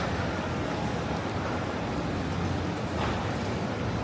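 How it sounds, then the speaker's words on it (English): Rain falls steadily on a New York City street in Manhattan, a dense, constant hiss of drops that stays even and fairly loud throughout, with no voices. "It is good that we have some rain."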